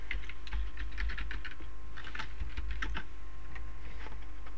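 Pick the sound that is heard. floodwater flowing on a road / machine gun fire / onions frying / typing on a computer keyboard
typing on a computer keyboard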